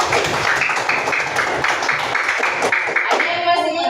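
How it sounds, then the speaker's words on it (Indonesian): Classroom students clap for a classmate, a steady patter of many hands at moderate loudness with some voices mixed in, lasting throughout. "Tepuk tangan untuk Andi Al-Ghazali."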